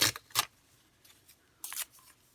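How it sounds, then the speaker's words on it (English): Scissors cutting paper scraps for a collage planner page, a few crisp close snips in two short pairs with quiet pauses between them. "cut this in half."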